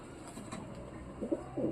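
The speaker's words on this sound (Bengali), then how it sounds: "আমাদের বুনো পায়রাটা ঠিক ঠিক আছে সমস্যা নেই বুনো পায়রাটা বাইরে দিয়ে ঘুরে বেড়ায়" A wild pigeon gives a few soft, low coos, faint and brief, over quiet background hum, with the clearest notes toward the end.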